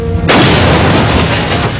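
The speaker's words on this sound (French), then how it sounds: "Puis c'est l'onde de choc." Shock wave from an atomic bomb explosion, a sudden massive roaring blast that breaks in abruptly and rumbles on, loud and broad.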